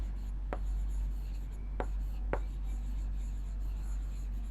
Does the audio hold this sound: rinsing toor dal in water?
no